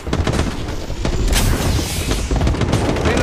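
Heavy, booming gunfire in the Apex Legends video game pounds continuously in loud overlapping shots and blasts, with no pauses and no talking.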